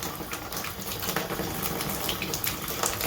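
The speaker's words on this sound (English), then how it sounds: "So I guess this is just the water that's in the line" Water rushes steadily out of a Culligan whole-house filtration system's filter line as pressure is released, a loud continuous hissing gush close by with no voices.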